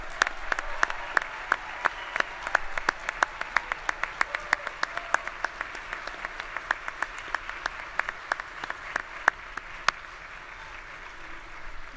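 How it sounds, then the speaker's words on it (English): A small audience at a spring commencement ceremony claps for bachelor's degree candidates. The claps are sparse and individually distinct, sharp and irregular, with steady lighter applause underneath for about twelve seconds. "We can clap for them."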